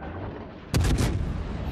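Battleship main guns fire in the World of Warships naval game, a sudden loud booming salvo of several overlapping blasts that rumbles on over steady background noise.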